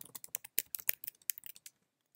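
Rapid keystrokes on a computer keyboard as terminal commands are typed, close and crisp in an irregular burst of clicks that stops after about two seconds, with no talk.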